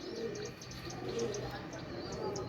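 High-flyer pigeons cooing softly in a loft, with low, rolling coos repeating at close range while someone talks over them.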